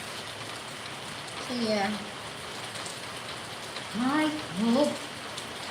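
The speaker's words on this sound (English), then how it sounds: "I'm sorry for all the noise. It's really raining cats and the dog." Heavy rain pours in a dense, constant hiss close by, with someone speaking briefly over it.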